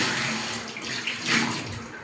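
A household water tap runs in a steady, close, moderately loud stream, with small splashing changes and no voices.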